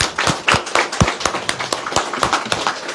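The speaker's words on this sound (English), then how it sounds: "Let's give them a round of applause." Scattered hands clap for cancer survivors at a cancer association gathering, a few loud, distinct, irregular claps close by rather than a full ovation.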